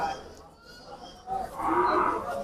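A cow moos loudly and close by at a crowded cattle market before Eid, one long low call rising in the second half over a background murmur of the market.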